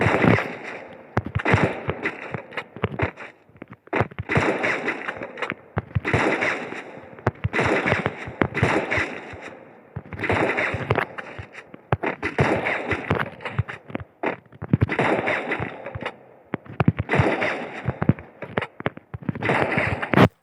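Gunfire in the mobile shooter game Free Fire comes as repeated bursts of sharp, punchy shots, in regular clusters with short gaps between them throughout.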